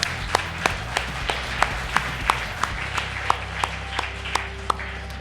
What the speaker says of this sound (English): I think Destia deserves a round of applause.